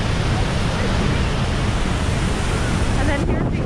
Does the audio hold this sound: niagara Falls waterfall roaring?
yes